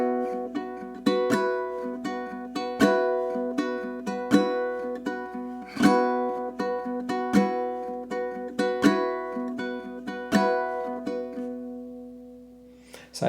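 Ukulele played with down-pluck strum patterns on a love song: a steady run of crisp, ringing strums repeats in an even rhythm, clear and alone, fading out at the end.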